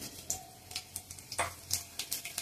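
Cumin seeds crackle in a hot kadhai of mixed oil and ghee for a palak paneer tempering, giving quiet, irregular pops and a light sizzle that spread across a couple of seconds.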